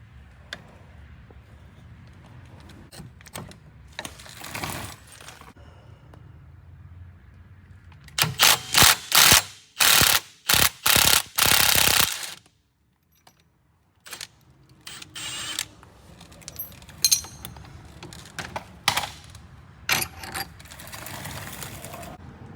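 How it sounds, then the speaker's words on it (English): A ratchet works a tie rod bolt and nut on an original Can-Am Maverick during a heavy duty tie rod kit install, giving bursts of rapid mechanical clicking close by, separated by quieter handling sounds, with no talk. "So we already took the bolt and nut off right here, as you just saw."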